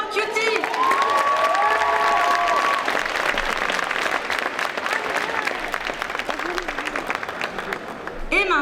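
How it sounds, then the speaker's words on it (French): Audience at a cosplay contest during a Japan pop culture show in Troyes applauds loudly and steadily, a dense sustained wash of clapping with a few cheers, fading slightly toward the end. "On applaudit bien fort Cutie!"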